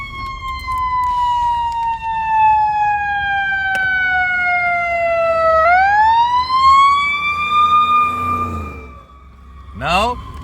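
An ambulance siren wails loudly nearby, its tone sliding down and then rising again as it passes stopped traffic on an American road, with a brief horn-like blast near the end.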